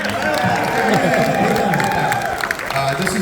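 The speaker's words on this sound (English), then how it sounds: "round of applause for your panelists, ladies and gentlemen" Audience applause and cheering for Comic-Con panelists at a Mondo panel during San Diego Comic-Con 2024 fills the hall as a steady wash of clapping and crowd noise, with a voice talking over it.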